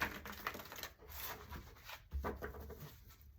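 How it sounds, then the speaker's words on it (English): Tarot cards being shuffled, a faint series of soft riffling taps and brushing card sounds in quick irregular bursts. "I am going to shuffle 3 times"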